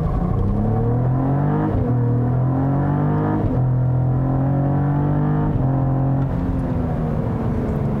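A 2022 Cadillac CT4-V Blackwing sedan, manual shift, launching from a standstill, its engine loud and close, climbing repeatedly through gears with brief dips at each shift.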